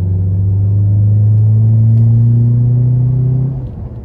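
A manual Honda car engine revs while driving, a loud, close, steady drone that rises slightly in pitch before dropping off near the end.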